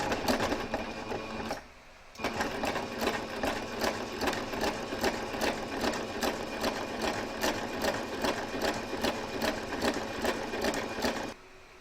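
A sewing machine stitches down the binding of a quilted table runner, running in steady rapid bursts with a brief pause near the start before sewing resumes and continues to the end, close up with no talk.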